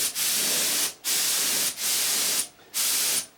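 A spray gun lays dark paint onto a rifle stock in four long, loud hissing bursts, each separated by a brief pause, with no talking.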